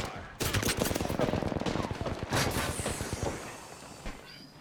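Rapid automatic gunfire bursts from the Apex Legends video game, loud and dense for about three seconds with sharp cracks, then tapering into a softer rattle with a voice briefly heard.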